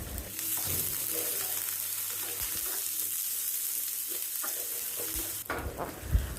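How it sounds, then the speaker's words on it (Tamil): Chopped onion, slit green chillies and curry leaves sauté in hot oil for a Madurai-style mutton fry, a close, steady sizzle broken by spoon stirring, with a louder clatter near the end. "பொடிசாக வெட்டின வெங்காயம், லேசாக கீறின பச்சை மிளகாய், கருவேப்பிலை சேர்த்து வதக்கணும்."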